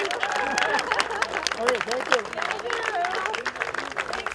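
Audience applause at an outdoor Truth and Reconciliation flag raising ceremony in Swift Current, Saskatchewan, a brief patter of clapping mixed with crowd murmur and someone speaking over it.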